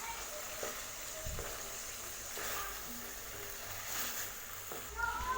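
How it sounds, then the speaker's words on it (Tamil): Pallipalayam chicken frying in a pan, a low quiet sizzle with occasional scraping stirs and small clatters of the spoon against the pan. "இடைக்கு ஒரு டைமு நல்லா இந்த மாதிரி கிளறி விட்டுருங்க"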